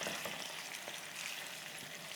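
Chicken pieces sear in a clay pot over rising heat, giving a continuous even sizzle and crackle, fairly quiet and with no voices.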